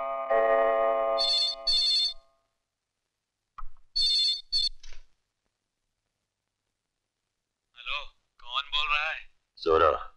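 A telephone ringtone sounds in short repeated bursts separated by silent gaps, loud and close, with a voice speaking between rings.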